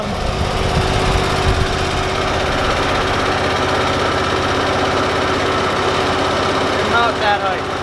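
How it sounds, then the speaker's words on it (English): A Kubota Z411 zero-turn mower with a 48-inch deck runs in a steady, loud engine drone close by, with a brief voice heard over it near the end. "we are starting the training session with Colin on the 48 Kubota Z411 mower"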